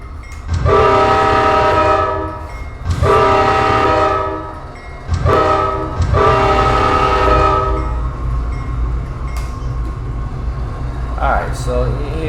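An Amtrak train passes a station in the Run 8 train simulator, sounding several long, loud horn blasts in a row, followed by a continuous rolling rumble of the cars.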